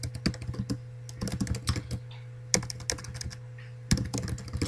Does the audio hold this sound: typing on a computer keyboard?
yes